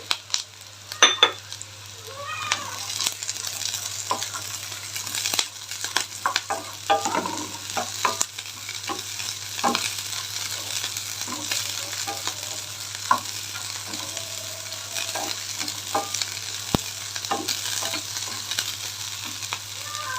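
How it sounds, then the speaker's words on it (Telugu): Beans sizzle steadily in a hot pan while a utensil stirs them, bringing scattered scraping clicks and taps over a constant frying hiss, close and moderately loud, with a low steady hum underneath. "కొంచెం దోరగా వేగిద్దాం ఇప్పుడు క్యాప్సికమ్ సారీ బీన్స్ వేసుకున్నాం"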